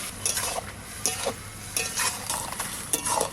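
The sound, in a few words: bottle gourd curry cooking in its own water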